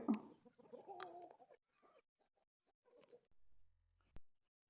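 A year-old native rooster, hatched and raised at home, gives a few soft, faint clucks and low throaty calls in short bursts, separated by quiet pauses.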